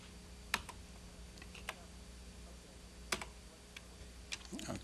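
Scattered key presses on a small speech synthesizer keyboard, a few sharp isolated clicks spaced irregularly and a quick flurry at the end, over a steady low room hum.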